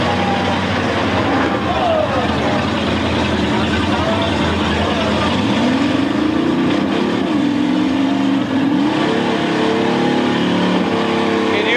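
Demolition derby cars at a Watsonville, California racetrack, engines droning and revving continuously with rising and falling pitch, loud and busy throughout, with an announcer's voice likely mixed in, though individual crashes are not distinct.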